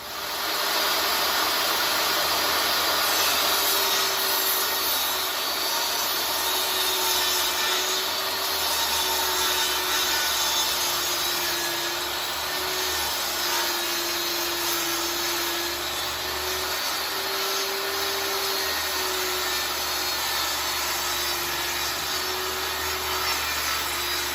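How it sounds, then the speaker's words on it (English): A saw rips a wooden board lengthwise for a 45-degree bevel cut while building shop cabinets, producing a loud, continuous whining roar with a steady pitch that wavers slightly under load for over twenty seconds, with no talking. "let's rip the board down and then get our 45-degree bevel cut"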